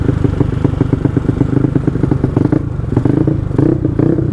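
Mio Smell 28D scooter bored to 200cc, 25 HP, dressed as a Mio Sporty, with a suspected faulty coil cable; the engine runs close and loud with a rough, steady, pulsing idle and mechanical clatter.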